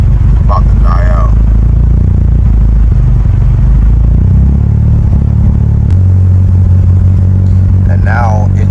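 A tuned Mitsubishi Evo 9 engine running at a raised, steady idle at full temperature with a rumbling drone, pitch shifting slightly near the end; a person speaks briefly over it.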